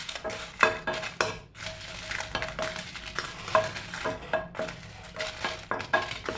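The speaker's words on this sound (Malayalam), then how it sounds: "ഇനി ഇതേ പാനിലേക്ക് ഒരു 5 ഉണക്കമുളക് ഇട്ട് കൊടുക്കുകയാണ്." Five dried red chillies heat in a pan, with scraping stirs, metallic clinks of a spoon against the pan and a light sizzle in uneven, close-up bursts.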